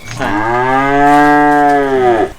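Water buffalo giving one long, loud, close moo that holds steady for about two seconds before trailing off, with no talking.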